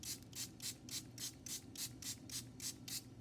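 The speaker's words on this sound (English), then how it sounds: "spray it some more" Rhythmic bursts of spraying from a hand spray bottle wetting plaster wrap, about a dozen quick, evenly spaced pumps, close by, with a faint low hum underneath.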